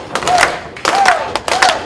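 Wrestling arena crowd during a tag team match cheers and claps in three swelling bursts, loud and close, with a voice rising over the noise.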